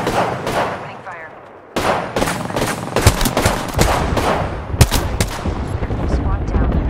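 Apex Legends firefight with rapid overlapping bursts of automatic gunfire, loud and close, with a few heavier impacts and game voice callouts mixed in.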